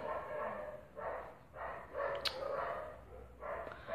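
Several dogs bark outdoors at a distance, in a loose run of about six rhythmic barks, moderately faint, with no talk over them.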